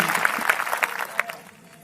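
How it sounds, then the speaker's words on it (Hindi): An audience claps for a visiting district judge at a Christian gathering, a short patter of applause with sharp individual claps standing out and trailing off within two seconds. "इनके लिए ताली बजा दीजिए"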